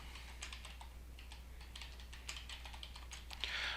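Typing on a computer keyboard while entering a credit card fee entry in accounting software, a steady run of light, quick key clicks at close range with a brief louder burst near the end, no voices.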